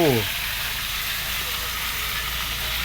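Shrimp fry in hot oil with a steady, loud, unbroken sizzle that holds evenly from start to finish, after a brief voice at the very beginning.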